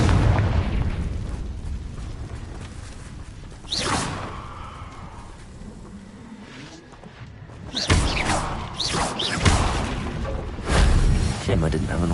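Blasting spell explosions in the game Hogwarts Legacy, a whooshing cast followed by booming bursts and crackling debris, several loud hits clustered toward the end over a rumbling background.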